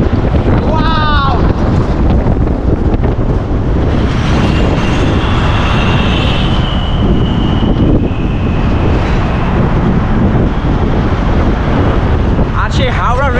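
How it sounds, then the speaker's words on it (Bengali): Cool wind blowing by the Howrah Bridge over the Ganges river in Kolkata, a steady broadband rush buffeting the microphone throughout, with traffic and crowd ambience underneath and brief voices at the start and end. "এখানে খুব সুন্দর ঠান্ডা হাওয়া দেখতে পাচ্ছ"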